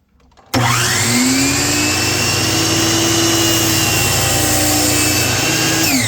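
A power saw whirs up sharply and holds a loud, steady whine while cutting small wooden diamond pieces for an eight-pointed star against a stop block, heard alone and close up.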